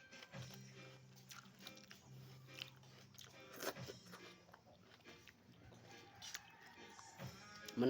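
Crunchy bites and chewing of fresh raw bitter gourd (ampalaya) at a Filipino home meal alongside paksiw fish and eggplant, close and fairly quiet, with steady humming sounds underneath.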